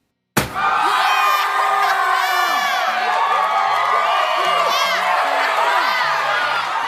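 A loud crowd erupts in sustained cheering, whooping and shouting, with children's voices among the yells, filling the streets after the announcement of the winning number in a 1992 Pepsi prize draw.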